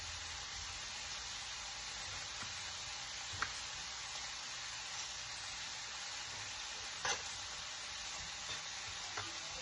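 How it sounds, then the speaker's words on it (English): Bacon sizzles steadily in a pan for a low-carb Zuppa Toscana soup, a continuous close hiss with a few faint clicks and pops and no talking. "Let our bacon cook."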